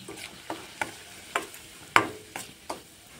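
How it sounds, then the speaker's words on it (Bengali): Semolina frying in ghee in a kadai for halwa: a faint, quiet sizzle beneath a series of sharp, evenly spaced scraping taps of a spoon stirring against the pan. "সুজিগুলো কিন্তু সুন্দর করে ভেজে নেব।"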